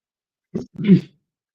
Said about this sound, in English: little bit of a cough.